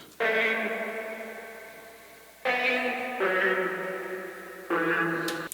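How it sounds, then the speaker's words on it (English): Chopped, pitched vocal syllables play in four sustained bursts with brief gaps between, bright and upfront with a slight echo tail. "vocal chop isn't the only vocal chop in the song"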